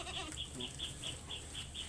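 Goats bleating on a farm, a series of short, evenly spaced bleats repeating about every half second over a steady low background hum, fairly close and moderately loud.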